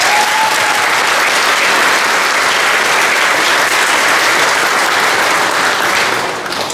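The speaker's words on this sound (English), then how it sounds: "So let's give them one more round of applause." A graduation audience at a school ceremony applauds steadily, a dense, loud wash of clapping that holds evenly for several seconds and tapers slightly at the end.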